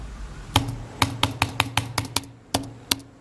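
A laptop keyboard is typed on in a quick series of sharp, close key clicks, with irregular spacing and brief pauses between bursts.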